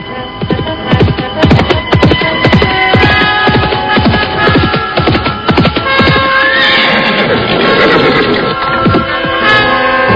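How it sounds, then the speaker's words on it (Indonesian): A single horse trots in a radio drama, its hooves beating a fast, regular clip-clop for several seconds, loud and close, before it lets out a whinny over a steady background hum. "Tak lama kemudian terdengar derap seekor kuda, semakin lama semakin dekat."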